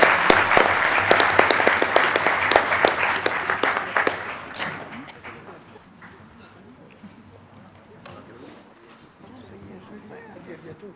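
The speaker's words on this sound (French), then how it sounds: "je crois qu'on peut les applaudir et les remercier" A conference audience breaks into loud applause for the speakers, dense clapping that fades after about five seconds into scattered claps and murmuring chatter.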